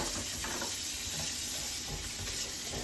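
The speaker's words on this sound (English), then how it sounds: "I'll give this a rinse off and then I'll wash it again to make sure all the food's off it" Tap water runs steadily over a utensil being rinsed in a home kitchen sink, a continuous close splashing hiss with faint clinks, no voices.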